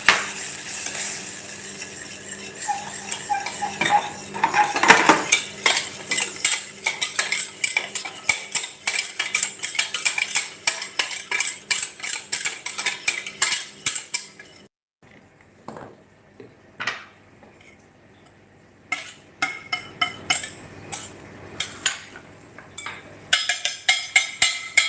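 Flour being stirred into choux pastry dough in a pan off the heat, with rapid repeated scraping and knocking of a utensil against the pan, then a quiet stretch before more clattering stirs.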